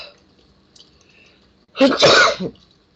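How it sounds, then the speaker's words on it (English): A single loud sneeze bursts out close by after a moment of near silence and a faint breathy intake. "I gotta sneeze."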